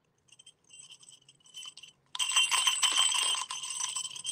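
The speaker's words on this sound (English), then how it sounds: "They got little jingle bells in there." Little jingle bells inside a Gerber baby crib toy tinkle softly at first, then jangle louder and continuously as the toy is shaken close by.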